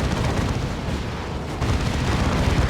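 Frag assault explosions in a Warhammer 40,000: Dawn of War 2 battle between Space Marines and Orks, a loud, continuous rolling roar of overlapping blasts and rumble with no pause.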